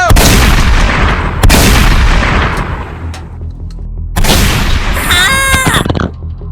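Several loud, close gunshots ring out in bursts with long echoing tails, separated by brief gaps, alone with no talking over them.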